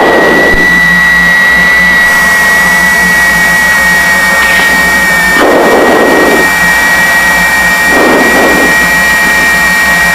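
The engines of a twin-engine Piper Seneca run loudly on the ground in a steady, droning whine, with throttle swells briefly raising the roar a few times.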